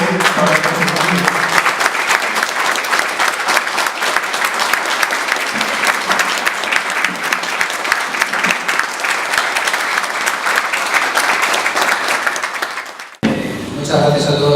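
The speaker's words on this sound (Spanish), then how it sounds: "les pido un fuerte aplauso para que se mantengan" At a donation handover ceremony at a Buenos Aires residence, the crowd delivers long, vigorous applause with dense, continuous clapping that stops abruptly near the end, after which a voice begins speaking.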